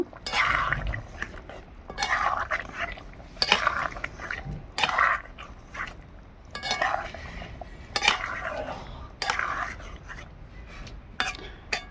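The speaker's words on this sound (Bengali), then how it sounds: "দিয়ে দিলাম বেটে রাখা গরম মশলা গরম মশলা ভালো করে মিশিয়ে নেব" A spoon stirs ground garam masala into a prawn curry with potato and pointed gourd in a pan, making repeated scraping clinks in a steady rhythm, close and clear, with no talking.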